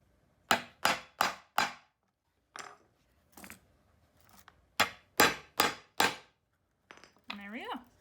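Hammer strikes setting a snap and three rivets on a leather axe sheath for a Cold Steel Trail Boss: sharp metallic taps in quick bursts of three or four, a few isolated knocks, then a brief rustle.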